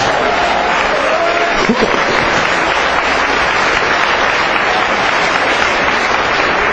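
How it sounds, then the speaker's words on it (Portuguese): A church congregation applauding, a dense, steady wash of clapping that carries on for several seconds, with no speech over it. "aplauda o Senhor mais uma vez"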